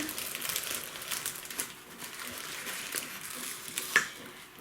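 Plastic packaging crinkles and rustles steadily as a mailed parcel box holding blooming orchids is opened, with one sharper crackle near the end, all close by and fairly quiet.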